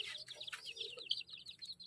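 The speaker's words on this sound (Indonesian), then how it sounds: "Wow, ada ayam teman-teman. Wah, 2 ekor." Chickens clucking close by, a quick string of short, bright calls in a busy, uneven rhythm.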